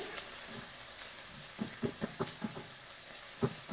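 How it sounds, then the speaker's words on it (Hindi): Garlic ginger paste and chopped green chili fry lightly in oil, giving a soft steady sizzle with small crackling pops, fairly faint and without talk. "इसको हमने हल्का सा फ्राई करना है"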